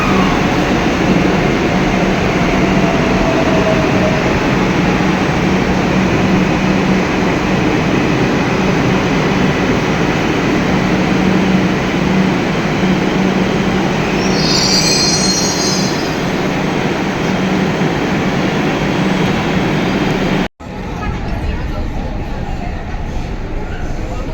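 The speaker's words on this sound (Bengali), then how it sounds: "ওই দেখো কথা কইতে কইতে ট্রেন ঢুকা গেছে" A Kolkata metro train pulls into the platform with a loud, continuous rumbling roar and a brief high wheel squeal midway, close by, then the sound cuts off abruptly near the end.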